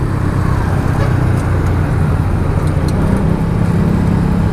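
Heavy, congested road traffic, with a loud, unbroken roar of car and bus engines and tires close by that stays dense and constant throughout, with no talking.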